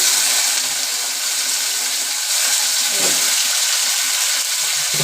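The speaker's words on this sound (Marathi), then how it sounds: "बटाटे परतून घ्यायचे" Potatoes sautéing in a pan for a green-masala potato curry, a steady bright sizzle with faint stirring, continuous and close throughout with no talk.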